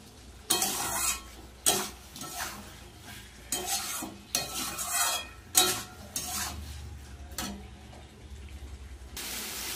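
Chili, tomato and spice masala for paneer is stirred and sautéed in a pan, with repeated loud scraping strokes of a spatula over a steady sizzle.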